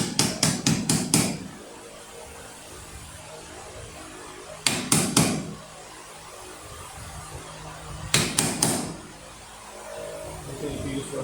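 A hammer lightly taps a dust cap onto the wheel hub of a 1973 Mercury Cougar XR7 during brake work. It lands in three quick bursts of four or five sharp, close knocks, with short pauses between them.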